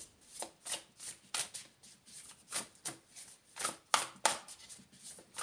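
Cards are shuffled by hand for a reading, giving a close, rhythmic run of papery bursts about twice a second that repeat steadily with no voices.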